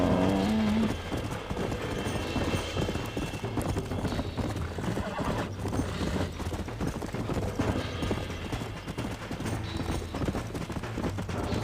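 Horse hooves clip-clop steadily with a brief neigh at the start, as a wild horse is approached in the Red Dead Redemption video game; fairly quiet throughout.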